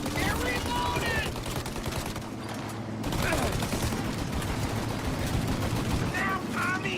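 Sustained shootout gunfire in Mafia: Definitive Edition, dense overlapping rapid shots with steady loud crackling bursts throughout and a brief lull near the middle. Voices shout faintly under it.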